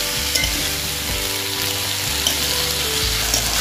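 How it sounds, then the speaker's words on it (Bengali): Mixed vegetables frying with ginger paste hiss loudly and constantly in a pan while a utensil stirs them, giving a few light knocks and scrapes over the sizzle, with no voices. "আদা বাটা দিয়ে আবারও ভালো করে নেড়ে করে নেব"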